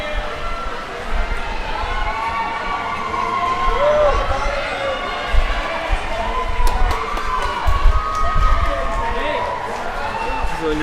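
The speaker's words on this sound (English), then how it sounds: "So you're hearing all the cheers from the swimmers from both teams" Swimmers from both teams cheer and yell at a Cedar Valley vs Ogden swim meet, a loud, continuous crowd of overlapping voices with bursts of shouting and some speech mixed in.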